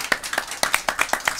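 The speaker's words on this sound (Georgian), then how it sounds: "ტაში" About ten separate hand claps land close and crisp in a loose, slightly uneven rhythm, each a sharp short smack with quiet gaps between.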